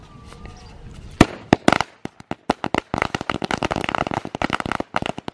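Sharp Diwali firecracker bangs in a village start sparsely, then speed into a dense crackling string of rapid pops, loud and near.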